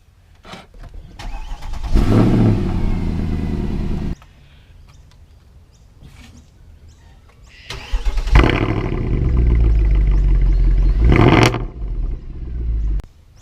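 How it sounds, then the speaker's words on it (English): A car with a Mercedes M156 engine cranks and starts, settling into a loud rough idle, then shuts off; after a quiet pause it is started again and idles, revving briefly before stopping. "And once you've done that, you can always start your car."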